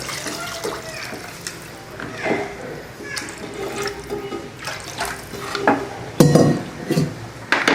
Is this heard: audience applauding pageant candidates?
no